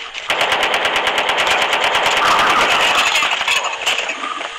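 Rapid automatic gunfire in Call of Duty Mobile, a fast, sustained burst of evenly spaced loud shots with a rattling edge, fading slightly near the end with no talk over it.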